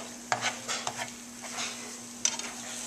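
Spoon stirring and scraping a cooking pot, with several short scrapes and clinks over a low steady hum, fairly close and moderately quiet.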